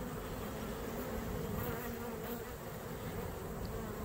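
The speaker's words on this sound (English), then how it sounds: "Maybe they'll crawl in front of the lens and you can actually see a bee up close and personal." A honeybee swarm being caught by beekeepers gives off a dense, continuous buzzing hum, close and steady throughout with no talking.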